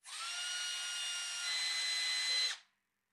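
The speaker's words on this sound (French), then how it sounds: "Et je peux faire percer un trou pour la vis." A power drill bores a screw hole in wood, giving a steady high whine that holds for about two and a half seconds, rises slightly in pitch, then cuts off cleanly, close and alone.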